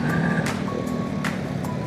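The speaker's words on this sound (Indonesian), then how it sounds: "Untuk knalpotnya berisik sekali ya dari tadi." A noisy motorcycle exhaust drones loud and steady while riding on the road from Denpasar to Canggu, a dense rumble with faint tonal whines above it.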